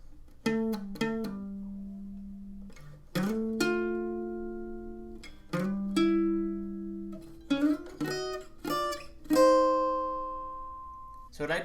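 An electric guitar plays the easy section of a song's solo, a sparse phrase of single plucked notes and bends with pauses between them, each note ringing and decaying, played alone.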